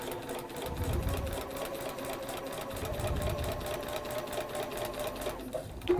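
A sewing machine stitches steadily with a fast, even mechanical hum and needle rhythm, running continuously at close range with a faint voice in the background.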